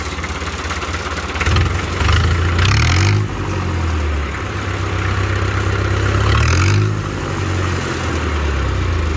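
A tractor engine idles loudly and steadily, then revs up twice in rising surges before settling back to a low rumble; no talking.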